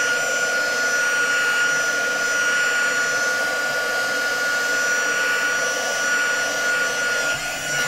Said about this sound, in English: We're going to hit it with the the heat gun. I'm going to dry it from behind as well.